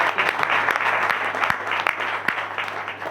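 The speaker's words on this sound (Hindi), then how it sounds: "मैं चाहूँगा एक बार जोरदार तालियां होनी चाहिए" A crowd claps loudly at a recognition event, dense overlapping applause with some sharper individual claps standing out, continuous through the moment.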